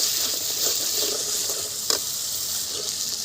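Two cardamom pods dropped into hot spiced oil with ginger, garlic and onion paste, giving a continuous close sizzle with a brief sharper crackle midway, no voices.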